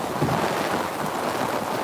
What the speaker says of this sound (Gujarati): ભયાનક તુફાન સાથે ખેતરોની અંદર પાણી ભરાઈ ગયા છે જોરદાર વરસાદ લગભગ એક કલાકથી ચાલુ છે